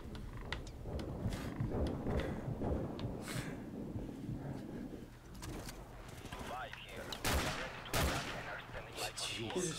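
Gunfire in the first-person shooter Modern Warfare Remastered crackles in repeated bursts and single sharp shots, loud and close, over a busy game soundscape with a player talking throughout.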